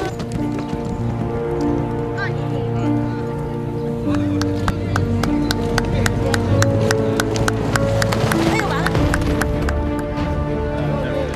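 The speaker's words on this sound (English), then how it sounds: "which consists of throwing a rod through a ring placed 3 meters high while galloping at the same time." Horses gallop during a traditional village riding contest in Argentina, their hooves pounding in a rapid, irregular series of sharp thuds over steady outdoor background noise.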